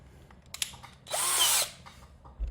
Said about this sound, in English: I'm just gonna put a bigger drill in so that we can just drill here out.